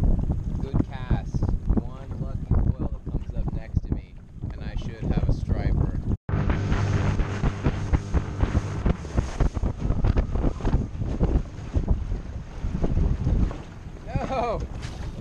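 Strong wind buffets the microphone with gusting rumble outdoors on the water from a rental boat at Castaic Lake, while someone talks over it throughout.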